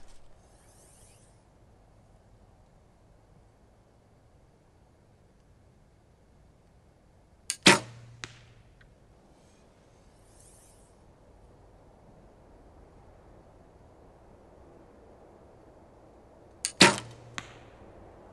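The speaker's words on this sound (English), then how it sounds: "Very different sound compared to normal Win&Win limbs" Two recurve bow shots with Win&Win NS-XP foam limbs, each a sharp loud string release followed by a quick arrow impact, spaced about nine seconds apart over a quiet outdoor background.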